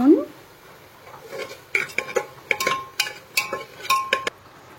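A spoon scrapes and clinks against a cooking pot as lentils, rice, potato, turmeric and salt are stirred together, in a run of irregular metallic knocks and scrapes after a quiet start.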